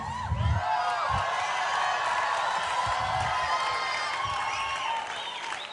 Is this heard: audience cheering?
yes